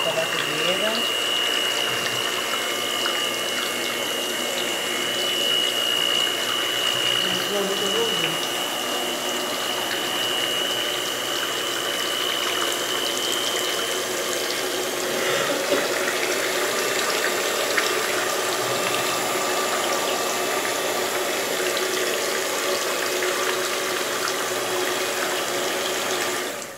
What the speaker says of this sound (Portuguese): E agora nós vamos passar para a batedeira.